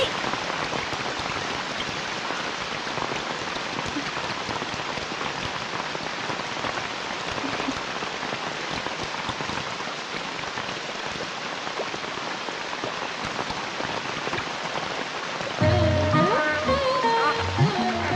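Steady, dense rainfall pours down continuously, a broad hiss of drops on surfaces, with a voice calling out briefly near the end.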